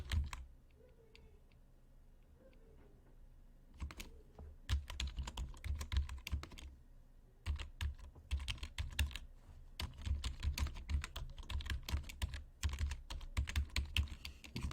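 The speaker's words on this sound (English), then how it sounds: "let's make sure we also type it" Quiet, close typing on a computer keyboard, a steady run of light key clicks with a brief pause partway through, alone without talk.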